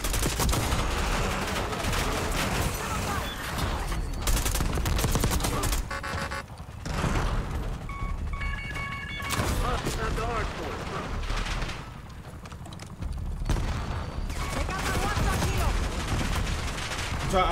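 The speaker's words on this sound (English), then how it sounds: "I'm finna shoot it down. I'm shooting it down right now." Dense bursts of automatic gunfire shooting down a helicopter in the video game Call of Duty Black Ops 6, loud and nearly continuous with brief lulls, mixed with game effects and a player talking.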